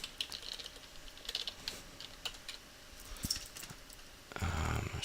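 Computer keyboard number pad keys pressed in separate light taps with uneven gaps, fairly close and alone, followed near the end by a louder burst of broadband rustling.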